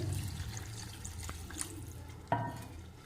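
Water poured from a glass into a pan of mixed spices on the stove, a steady splashing trickle with a sharper splash near the end, fairly quiet.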